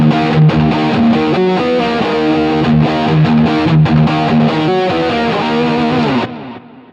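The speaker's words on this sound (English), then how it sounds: "I've got an Epiphone Explorer that I have the James Hetfield signature headset pickups in that I love." Epiphone Explorer electric guitar fitted with James Hetfield signature pickups, played through distortion effects on a Line 6 HX Stomp: a loud, heavily driven metal riff of chugging chords and palm-muted notes, ending with a fading ring.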